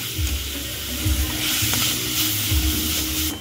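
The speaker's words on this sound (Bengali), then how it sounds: "এইভাবে নেড়ে নেব।" Amla being stirred while cooking in a pan, a close sizzle with soft, rhythmic scraping strokes of the spoon every second or so, no voices.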